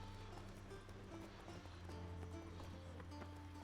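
Several horses crowd around a player character in The Witcher 3, their hooves clip-clopping in uneven steps over a steady low game ambience, with a faint voice briefly audible.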